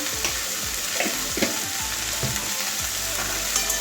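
Carrot and cauliflower with shrimp stir-fry in a pan for a chorchori: a loud continuous sizzle, with the low knocks and scrapes of a spatula turning the vegetables.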